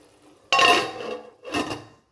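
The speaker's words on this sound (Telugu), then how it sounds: "నేను మరలా మూత పెడుతున్నాను." A lid goes back onto a cooking pan with egg and tomato masala curry inside, first one sharp metallic clatter, then a second shorter rattle as it settles, close up with no talk.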